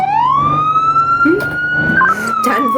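Police car siren wailing loud and close in one long rising and slowly falling tone, with radio chatter and engine noise underneath during a chase of a man fleeing on a lawnmower.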